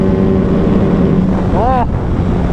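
A Hyosung GT250R, a five-speed 250 cc sport bike, accelerating hard toward 170-plus, its engine drone buried in a steady, loud rush of wind across the microphone, with a brief rising whine near the end.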